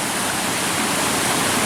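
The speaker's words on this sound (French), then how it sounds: "on a le chouette ruisseau là qui est creusé dans la pierre" A small stream runs through a channel cut into the stone at a bushcraft camp, giving a steady, close, rushing flow of water with no voices or other sounds.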